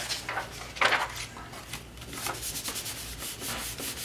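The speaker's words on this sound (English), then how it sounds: "And just kind of give that a rub just to get rid of the extra glue." A glued paper card is rubbed by hand to work out excess glue, making steady close brushing and scraping strokes with no speech.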